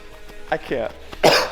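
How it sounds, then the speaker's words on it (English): A single harsh cough near the end, preceded by a brief throat-clearing rasp and a short vocal sound, close and fairly loud. "every time I eat peanuts, like, it makes me cough"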